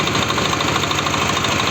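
A four-wheel mini tiller with a 10 HP, 456 cc engine runs loud and close, with a steady, rough, throbbing rumble and no break.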